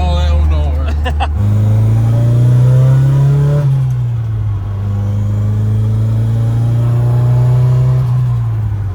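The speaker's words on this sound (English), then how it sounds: "The car itself sounds really good." A drift project car engine revs while driving, a loud, steady drone whose pitch climbs, eases back and climbs again, heard close from inside the car, with rattling and road rumble underneath.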